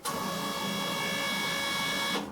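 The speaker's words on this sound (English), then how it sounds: "when you press receipt feed, obviously the paper feeds, but also the spool spins" A Sam4S NR-500 receipt printer feeds paper with a steady, continuous motor whir and spool spin that runs for about two seconds, then stops abruptly.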